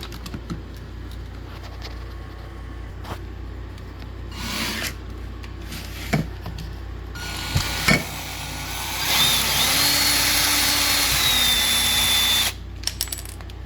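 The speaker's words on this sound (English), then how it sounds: "So now we're ready to take the little screws out here and get the battery plate out." Small screws are backed out of a cordless 24-volt Tasvac vacuum battery pack with a power driver: short whirring bursts, clicks and taps, then a longer close buzzing run.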